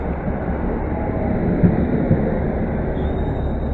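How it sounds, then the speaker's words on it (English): A London Underground Metropolitan line train, unit 21106, draws into Pinner station, a steady broadband rumble of wheels and motors with a couple of faint knocks midway, fairly close and continuous with no talk. "The next train to us is going to be a London Underground Met Line service from Baker Street to Chesham."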